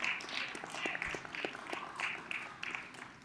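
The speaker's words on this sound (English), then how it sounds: "Please clap it up for yourselves." Audience applause at a Black History Knowledge Bowl quiz after a sports round, a lively patter of hand claps with a few sharper individual claps, fairly close and steady for a few seconds.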